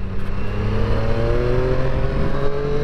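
A Triumph Street Triple RS motorcycle engine revs up close by, its droning note rising smoothly in pitch with a gritty, buzzing rumble underneath.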